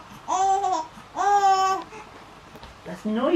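A baby babbles loudly in two long drawn-out vocal bursts with a brief pause between them, close by, followed by a short third sound as it starts up again.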